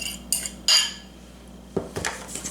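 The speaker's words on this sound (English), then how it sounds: "So go ahead and whisk your 3/4 cup of brown sugar, and that should be packed." A whisk works packed brown sugar, granulated sugar and melted butter together in a bowl, giving a few brief metallic clinks and scrapes against the bowl with quiet pauses between them and no talking.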